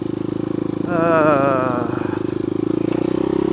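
A dirt bike engine runs steadily up close, rising in a short rev before settling back to a rough, pulsing idle.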